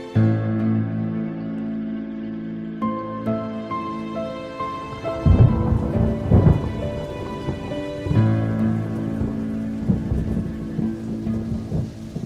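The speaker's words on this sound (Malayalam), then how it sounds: "എന്ത് നല്ല മഴയല്ലേ, നൈസ് മൂഡല്ലേ." Steady rain falls outdoors, with low rumbling thunder rolling through the middle and again later, fairly close and continuous, with no voices.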